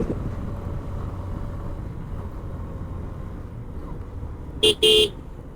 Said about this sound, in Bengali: হর্ন দেয়াটা ফরজ